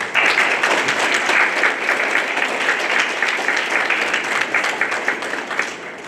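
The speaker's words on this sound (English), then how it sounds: "Round of applause for Kelly" An audience claps steadily for a speaker being introduced at a justice symposium, a dense, loud wash of applause that holds evenly for about six seconds with no talking over it.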